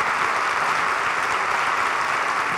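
An audience applauds at a talk, giving a continuous, even wash of clapping from many hands with no voices on top.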